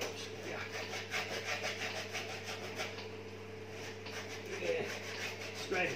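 Grime being scraped off an old milling machine during a restoration, a steady rasping, rubbing scrape over a constant low workshop hum, with faint voices in the background.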